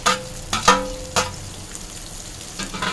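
Chopped onion hits a hot pan and fries with a sizzle, with a few sharp stirring scrapes early and a lower steady crackle after, no talking.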